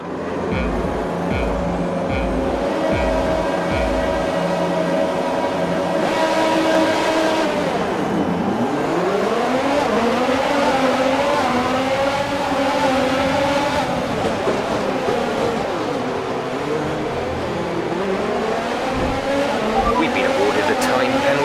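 F1 race cars from the F1 2022 and F1 2021 video games roar continuously at high revs, with engine pitch climbing and falling through gear changes. A voice speaks over the start.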